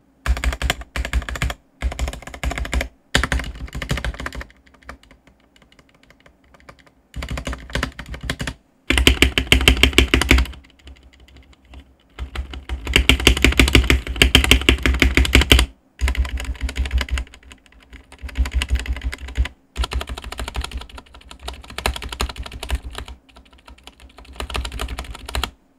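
Fast typing on a Daxa M100 Pro full-size mechanical keyboard comes in bursts of rapid clacky keystrokes separated by short pauses, close and crisp.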